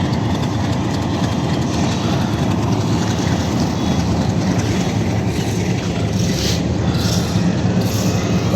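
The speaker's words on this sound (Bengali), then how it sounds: "এটা হচ্ছে লোকাল ইঞ্জিন" A local diesel locomotive with wagons on a railway siding where stone from India is unloaded and reloaded, a continuous low engine rumble idling steadily with faint hiss above.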